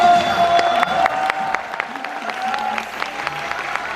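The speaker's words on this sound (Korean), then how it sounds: "박수 주십시오" A studio audience at a KBS Gag Concert taping applauds with scattered claps and a few cheers, loud at first and thinning slightly, with a voice and tonal sounds mixed in.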